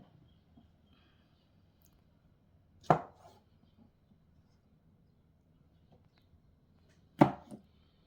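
A knife cuts through ingredients for a pork and mushroom casserole, two sharp isolated chops on a board several seconds apart in an otherwise quiet room.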